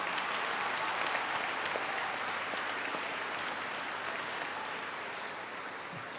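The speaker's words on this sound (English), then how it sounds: "Let's give a warm applause and welcome everyone." An audience applauds at a youth leadership assembly on technology and innovation, a continuous even spatter of clapping from a large hall, fairly distant and fading gently over several seconds.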